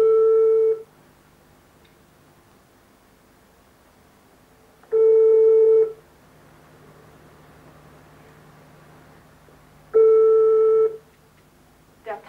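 Three evenly spaced long tone bursts on a telephone line after dialling a payphone, each about a second long and separated by roughly four seconds of low hiss, with no answer.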